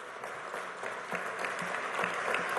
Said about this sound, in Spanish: así que yo pido un aplauso para ellos, para todos quienes están ascendiendo hoy